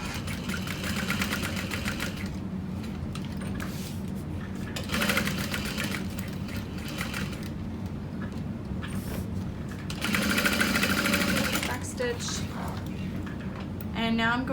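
A sewing machine stitches an exterior V-shaped pocket onto a handbag, its steady close mechanical whirr running in several stretches with short pauses at pivots, and a voice talking over it.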